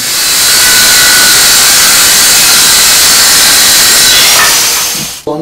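A loud, steady high-pitched whine of a power drill boring into oak runs continuously, then cuts off abruptly at the end.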